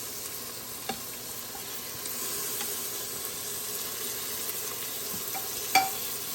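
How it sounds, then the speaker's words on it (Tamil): Tomatoes and green chillies sautéing in a pan for shrimp biryani, a steady soft sizzle with occasional light stirring clicks and one sharper tap near the end. "இப்போது தக்காளியும் பச்சை மிளகாவும் இதில் போட்டுடுறேன்."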